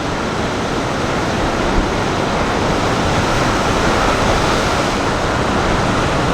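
Indian Ocean surf at Kalbarri, Western Australia at sunset, a dense unbroken roar of waves with wind, loud and steady for the whole stretch, no voices.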